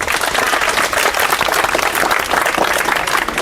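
A group claps steadily in a room to honour a top-scoring tenth-grade student after Bihar's matriculation results, the applause close and continuous without speech.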